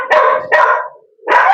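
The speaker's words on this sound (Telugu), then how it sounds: "కుక్కలు అరుస్తాయి." Dogs kept at a cattle farm give three loud, close barks, each sharp and slightly drawn out, with a short pause between the second and third.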